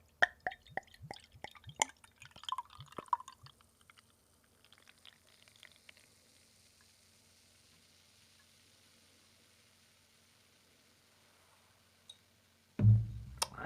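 Lemke Indian Pale Ale beer is poured, starting with a burst of clinks, glugs and drips and settling into a faint fizzing hiss, then a sudden loud thump at the very end.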